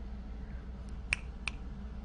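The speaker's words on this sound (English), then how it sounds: "Snap your fingers, we'll come a-running" Two crisp, close finger snaps, about a third of a second apart, sound against a quiet low hum.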